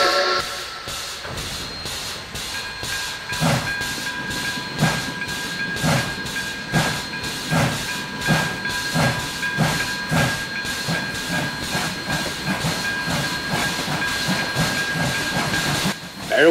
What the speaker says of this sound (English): they coupled him to his train and later departed.